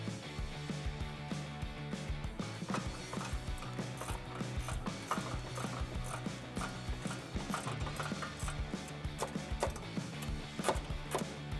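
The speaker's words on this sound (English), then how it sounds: "you need to push up against the wrench to get it to hook on" A wrench ratcheting while removing the exhaust hanger bracket on a 2015-2019 Dodge Challenger 3.6L, giving repeated clicking and clanking in an uneven rhythm, close and fairly quiet.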